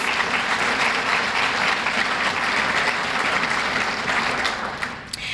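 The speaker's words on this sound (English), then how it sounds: "So if we could please give Paul a round of applause." An audience at a Chamber of Commerce community luncheon gives a round of applause, a dense, continuous wash of many hands clapping at steady loudness, easing off slightly at the very end.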